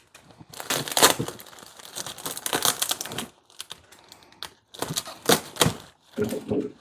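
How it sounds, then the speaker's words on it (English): Packing tape being cut and pulled off a cardboard box while unboxing orchids, a series of close, sharp crackling and ripping bursts with short pauses between them. "Cut this tape again."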